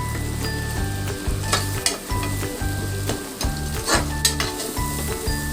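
A few mint leaves sizzle in chicken curry masala in a pan, loud steady frying with regular stirring scrapes and occasional clinks, close up and without speech.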